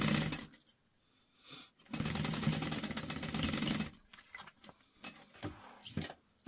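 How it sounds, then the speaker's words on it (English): Sewing machine stitching fabric pieces of a Devon pouch laid right sides together, a steady two-second whirring run between short bursts and handling clicks, close and fairly quiet with no talk. "we're putting this down right sides together, and then we are stitching that on"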